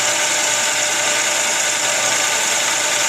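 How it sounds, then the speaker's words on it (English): A tiny mini lathe takes a light facing cut under fine lead-screw feed, giving a steady, loud mechanical whir with a high motor whine that holds evenly throughout, with no talking. "with this tiny little lathe, you have to take a lot of small cuts"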